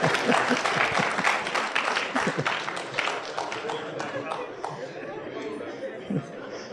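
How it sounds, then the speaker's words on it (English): An audience claps at a public briefing, a dense patter of applause mixed with crowd chatter that is loud at first and gradually thins out. "A round of applause."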